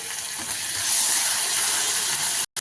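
Boiled potato pieces frying in a pan for aloo fry give off a loud, steady hiss of sizzling oil that runs without a break, then cuts off sharply just before the end.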